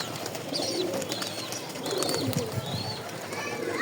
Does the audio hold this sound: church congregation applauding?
no